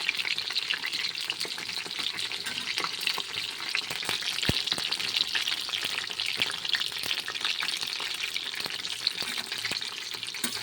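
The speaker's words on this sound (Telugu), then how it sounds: "ఇవన్నీ ఈ వంకాయలు అయితే 4 పక్షాలుగా కోసుకొని ఇలాగా ఆయిల్లో ఫ్రై చేసుకోవాలి" Quartered eggplant sizzles steadily in hot oil, a dense, even crackle with occasional sharper pops and stirring scrapes, close and alone without speech.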